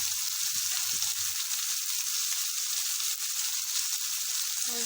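Carrots, green chillies and radish frying in hot oil for pickle, a steady close sizzle throughout with a few stirring knocks early on and no talk.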